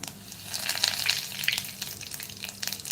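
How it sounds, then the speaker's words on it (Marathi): Cumin seeds crackle in hot oil in a pan with a close, busy sizzle and scattered sharp pops for a few seconds, with no talk. "आणि तडतळायला लागलेली आहे तडतळाचा आवाज आला ना"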